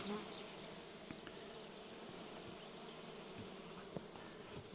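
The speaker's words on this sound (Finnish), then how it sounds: "Nyt näette, niin tossa on mehiläiset kuljettaa siitepölyä" Honeybees buzzing around an open beehive while carrying pollen, a soft steady drone of many insects at close range with occasional louder passes near the microphone, no voices.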